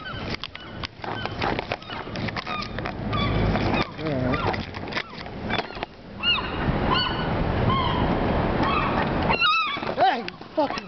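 Angry seagulls attacking on a parking garage rooftop give repeated harsh calls and squawks, loud and close, with someone shouting over them at moments.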